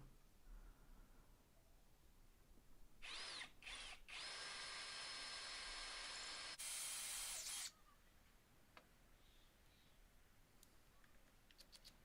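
A power drill drives a screw into a piece of scrap wood for a Christmas gnome decoration, whirring loudly and steadily for about four seconds with a brief pause and a final higher burst, alone in a quiet room.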